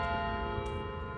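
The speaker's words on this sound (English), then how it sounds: "That's a real carillon" Real carillon bells ringing outdoors near a university music building, a sustained, rich metallic bell tone with a long ringing resonance, fairly loud and steady.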